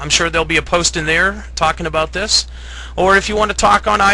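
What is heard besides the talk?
No everyday noises stand out.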